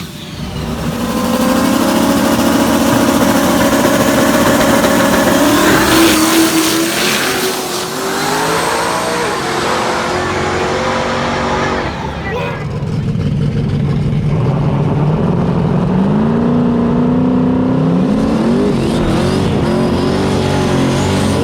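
Race cars roar loudly around a track, with engines revving and shifting pitch as they pass, sustained and close, with a brief dip midway before the roar picks up again.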